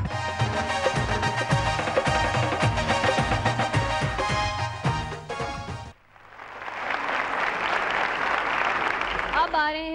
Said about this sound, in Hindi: आपकी भरपूर तालियों में वारिस